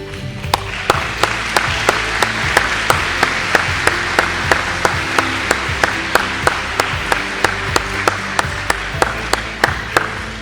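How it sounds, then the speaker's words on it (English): Sustained applause from a graduation audience welcoming faculty and deans at Perry Technical Institute, a dense steady roar of many hands with regular sharp percussive clicks running through it, continuing at an even level for the whole stretch. "There's a lot of them, so we're going to have to keep clapping."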